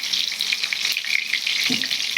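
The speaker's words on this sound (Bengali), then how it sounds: "পটলগুলো এবার গ্যাসটা কমিয়ে কমিয়ে ভেজে নেব।" Pointed gourd (potol) pieces fry in oil over a lowered gas flame, giving a steady, close, even sizzle with no talking.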